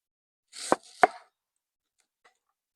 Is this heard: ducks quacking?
no